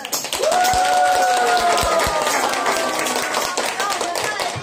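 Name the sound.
applause welcoming the performers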